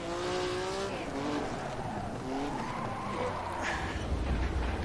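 A race car spinning out with tires squealing in wavering tones over a steady engine drone, followed by a low rumble as the car slows, recorded close by.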